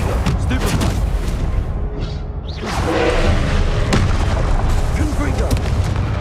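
Booming blasts from the Confringo blasting spell in Hogwarts Legacy, a dense wash of heavy thuds and rumbling impacts that runs through the clip with other combat sounds, growing louder partway through.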